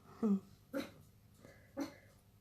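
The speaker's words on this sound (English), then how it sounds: "My puppy barking." A puppy barks in short sharp bursts, three or four yelps spaced unevenly and fairly close, indoors at moderate loudness with quiet between them.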